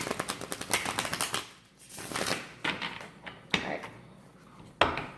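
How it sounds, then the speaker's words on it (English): Tarot cards being shuffled up close in quick riffling bursts, with short pauses between rounds of shuffling. "So I'm going to do just a shuffle real quick."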